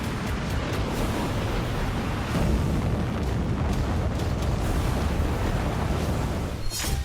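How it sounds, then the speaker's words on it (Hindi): Heavy missile strikes in the Russia-Ukraine war: a dense, continuous roar of blasts and rumbling booms, loud and sustained, with a sharp burst near the end and no voices. "रूस की मिसाइलें यूक्रेन के हर कोने पर गिर रही हैं"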